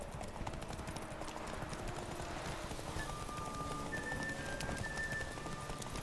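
Horse hooves in The Witcher 3 video game clip-clop in a steady, quick rhythm, fairly faint under rain-like background noise, with a few faint tonal game sounds.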